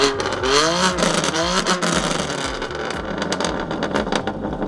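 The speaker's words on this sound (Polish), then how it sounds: "z pozostawioną końcową puszką seryjną z powiększonymi tylko samymi końcówkami układu wydechowego, ale jest to piekielnie głośne" A BMW M2 Competition F87 engine revs hard several times, its loud exhaust with stock rear muffler and enlarged tips roaring and crackling between sharp rises in pitch, close and dominant throughout.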